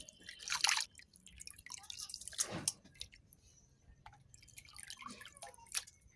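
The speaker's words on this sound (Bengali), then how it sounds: "যতক্ষণ সাদা জল না বেরোবে ততক্ষণ ধুতেই থাকবো।" Meat skins rinsed by hand under running water in a kitchen: wet splashes and squelches in uneven bursts, with trickling and dripping between them, close and fairly quiet.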